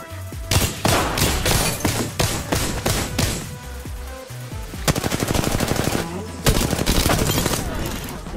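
Automatic gunfire in the battle royale game Apex Legends, delivered as several loud rapid bursts with brief pauses between them, close and dominant.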